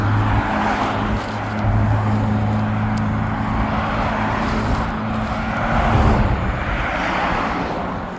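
Cars passing on a road in Riverside, California, heard from the curbside as a steady, fairly loud roadway rumble with a low engine drone that swells around the middle and toward the end, no voices.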